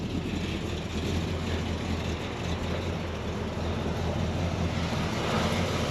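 A 1957 Chevy Bel Air engine runs at a steady idle, its exhaust giving a constant low rumble at moderate distance with no voices.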